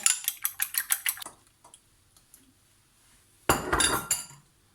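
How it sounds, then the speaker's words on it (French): Eggs beaten quickly with a utensil in a bowl for lemon cupcake batter, a rapid run of about eight sharp clinking strokes, a pause with faint taps, then another short burst of clattering whisking close by. "je vais ici les battre rapidement. Donc je les bats en omelette là"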